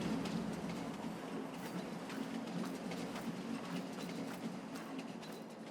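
Steady rolling rumble of a moving train in Farming Simulator 22 on an Italian Emilia map, a continuous low drone with faint rhythmic clatter throughout, fairly close and alone without talk.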